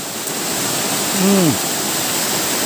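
Encanto Falls waterfall in Libmanan, a steady broadband rush of falling water heard close and continuous, with a brief voice-like tonal sound briefly rising over it.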